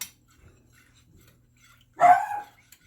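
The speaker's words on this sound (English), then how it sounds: "that is the barking I'm talking about" A single sharp dog bark breaks a near-silent stretch, loud and close, trailing off quickly.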